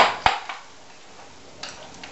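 A spoon stirs a shrimp stuffing mixture of lime juice, Worcestershire sauce and Italian parsley in a bowl, making a few quiet, scattered clinks and scrapes separated by near silence.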